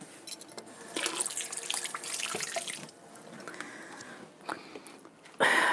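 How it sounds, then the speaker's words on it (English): Hands being washed under a running kitchen tap while making hamburger soup, a steady broadband rush of water with splashing variations, easing off midway and swelling again with a louder burst at the end. "Let me wash my hands."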